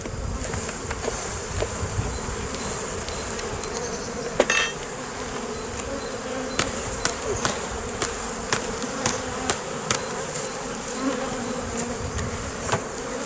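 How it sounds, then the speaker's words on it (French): Honeybees buzz steadily around a hive frame lifted during a colony split, a close dense drone broken by a run of sharp light clicks and taps. "je retire toutes les abeilles, il ne faut absolument pas qu'il y ait la reine sur ce cadre"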